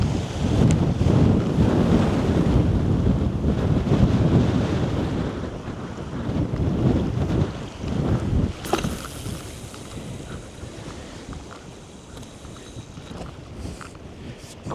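Strong wind buffeting the microphone on a rough-ground seashore during a cod fishing match, loud gusty rumble with surf-like wash, easing somewhat toward the end.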